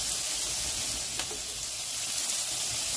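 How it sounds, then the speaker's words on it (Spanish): Garlic, onion and bacon sizzling in oil in a frying pan for lasagna, with a continuous close crackling hiss and a brief brighter spatter in the middle. "vamos a agregar el ajo triturado o rallado o finamente picadito."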